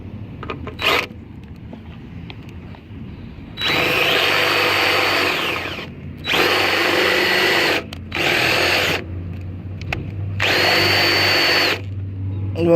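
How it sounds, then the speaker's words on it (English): Cordless power drill boring out a stripped screw during a 2005-2009 Infiniti G35 radio install, in four sustained whining bursts of a few seconds each separated by short pauses, close and loud, with light clicks and handling noise between. "The screw is all jacked up, so I'm gonna have to drill this out."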